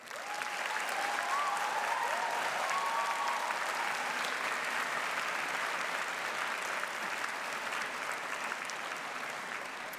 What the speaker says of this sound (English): Graduates, please join me in a round of applause to thank all those people who have helped you along the way.